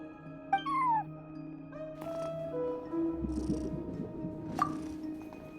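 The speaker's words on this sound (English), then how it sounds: "cat watching over the front desk. Excuse meow?" A cat meows in the video game Genshin Impact, a few short meow-like calls over a soft, tonal game soundscape, fairly quiet throughout.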